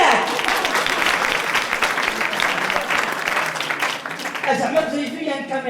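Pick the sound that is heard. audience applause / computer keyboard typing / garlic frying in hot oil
audience applause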